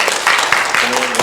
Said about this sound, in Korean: 우리 하나님께 감사와 영광의 박수 올려드리기 원합니다